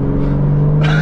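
A BMW M4 with a full straight-pipe exhaust skids while its engine drones loudly and steadily up close. A brighter hiss of sliding tires joins near the end of the brief burst.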